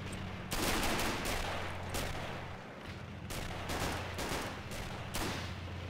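Bursts of rifle and machine-gun fire rattle through a WWII battle in Men of War: Assault Squad 2, several loud volleys in quick succession over a constant low rumble, with no speech.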